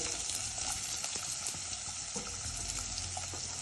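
Chopped onions fry with cumin in a pan, giving a soft, steady crackling sizzle with faint scraping of stirring, fairly quiet and alone.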